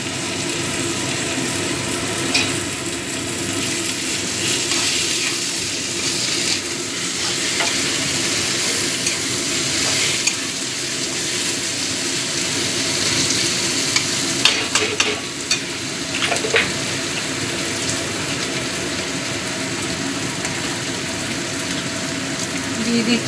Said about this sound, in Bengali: পেঁয়াজটা বেশ নরম হয়ে গেছে এবার দিয়ে দিচ্ছি কুচিয়ে রাখা টমেটোগুলো